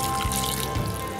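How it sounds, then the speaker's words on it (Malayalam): Second extract of coconut milk pouring into a pot for Kerala olan, a steady close liquid trickle and splash running continuously without any talk. "നമ്മൾ 2-ാം പാൽ ഇതിലോട്ട് ചേർത്ത് കൊടുക്കുകയാണ്."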